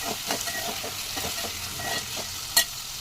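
Potato pieces fry in a pan with a steady close hiss, the spatula scraping and turning them in repeated strokes and one sharp clink near the end; no one speaks.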